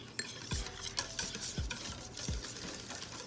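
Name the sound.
whisking sweet crepe batter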